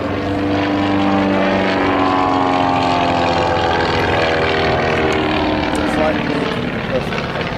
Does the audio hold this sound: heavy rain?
no